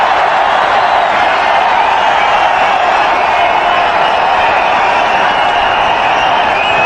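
A large cricket stadium crowd cheers and roars in a continuous, fairly loud wash of noise that holds steady from start to finish.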